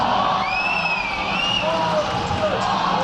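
A roller derby crowd cheers loudly and continuously, with shouts, whoops and high excited yells over a dense wash of voices in a large venue.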